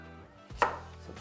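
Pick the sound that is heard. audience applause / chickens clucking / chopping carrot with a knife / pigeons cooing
chopping carrot with a knife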